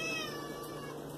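A single drawn-out cat meow, fairly quiet and close, over a faint steady background.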